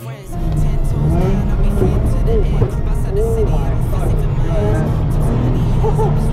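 Drift car engine revving steadily on a winter ice track in Canada, a loud continuous roar with rising and falling pitch sweeps, heard close with constant drone and no pauses.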